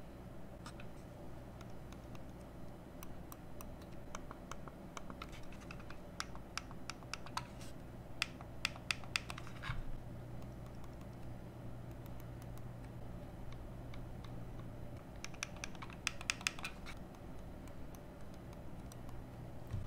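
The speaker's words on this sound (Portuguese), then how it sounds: "Eu vou estar clicando aqui para você ouvir o clique desse mouse, o M650." A Logitech M650 silent mouse is clicked repeatedly right in front of a microphone, producing faint, soft ticks in irregular bursts over a quiet hum.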